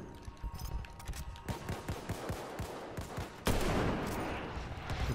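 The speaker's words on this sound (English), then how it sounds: "Machine gun, look alive!" Rapid bursts of machine gun fire in the World War I shooter Battlefield 1, a dense run of sharp shots with a heavier blast near the end, mixed with other battle noise.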